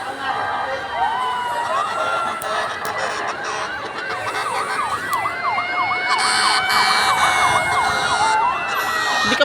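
Several fire truck sirens wail and yelp at once, rising and overlapping at a building fire in Tramo, Pasay, growing louder as they near, with a crowd murmuring underneath.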